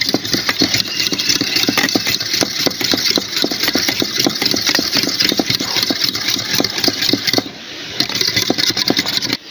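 An electric beater whips eggs for an Oreo biscuit cake, giving a loud, close, continuous motor whir with a fast rhythmic rattle, a brief dip, then full speed again.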